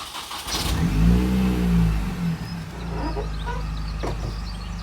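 A supercharged Mini Cooper S engine cranks and catches, revving briefly before settling into a steady idle. It is close and continuous, with no talk.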